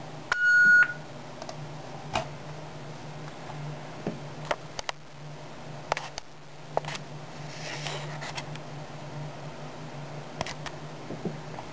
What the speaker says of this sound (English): Roger beep on.